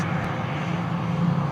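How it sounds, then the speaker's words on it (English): Global Express business jet taxiing past on taxiway Charlie at Sydney Airport in wet weather, a brief, steady, moderately loud engine whine and rumble at a distance. "Global Express just rolling past here at taxiway Charlie"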